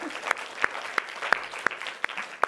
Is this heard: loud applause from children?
yes